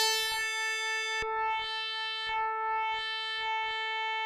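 A sustained DX7-style synthesizer tone from an iOS synth app, with steady harmonics, chopped by rhythmic swells of echoing, reverberant texture that pulse and fade several times.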